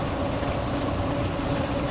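A Cummins ISB 6.7L diesel engine in a 2016 IC CE school bus runs at a steady, continuous drone with a broad low rumble and fan noise, loud and unbroken throughout.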